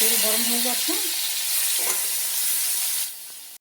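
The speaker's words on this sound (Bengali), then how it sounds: "তেল গরম হয়ে গেছে, সর্ষে ফোড়ন দিচ্ছি" Mustard seeds hit hot oil in a wok and give a loud, dense hiss that starts at once and holds steady before dropping off near the end.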